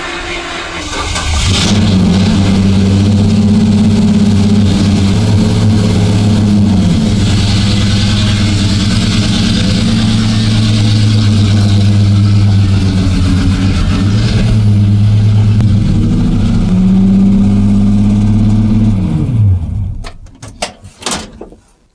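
An engine starts and runs steadily at a strong, close idle for about twenty seconds, then shuts off, followed by a few faint knocks.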